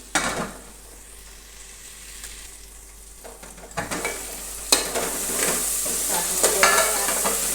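Cluster beans sabzi is stirred in a frying pan: scraping spatula strokes and clatter over a continuous sizzle that grows livelier toward the end, with no talk.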